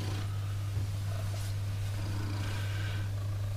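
A cat purrs softly and steadily up close, a low continuous rumble under faint background noise.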